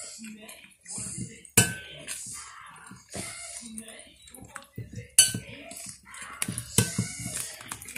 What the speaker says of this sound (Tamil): இப்போ நாங்கள் இதை நல்லா மிக்ஸ் பண்ண வேணும்